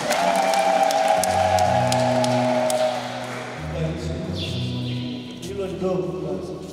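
A church congregation at a Catholic ceremony breaks into applause, a dense wash of clapping over a sustained musical tone that shifts pitch midway and gradually thins toward the end.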